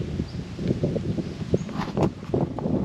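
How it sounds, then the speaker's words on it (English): Gusty wind at the Wenlock River buffets the microphone with a rough, rumbling roar that rises and falls in bursts, and no one speaks. "It is a bit windy though."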